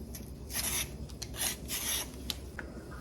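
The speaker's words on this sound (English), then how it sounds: "now let's peel off this chayote" Ultra sharp knife peeling a chayote, producing quick repeated scraping rasps in short bursts, close and fairly quiet, with no talk.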